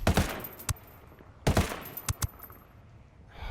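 MK-17 rifle fire in Ghost Recon Wildlands, in two loud bursts of sharp, rapid shots separated by a short pause, each crack followed by a fading tail.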